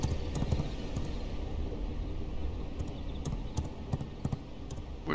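Horse hooves clip-clop softly in V Rising, a faint, uneven patter of light hoof knocks over a low rumbling game ambience, with no voices.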